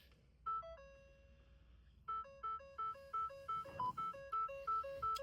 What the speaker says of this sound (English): I cannot wait to turn off some of these dinging noises.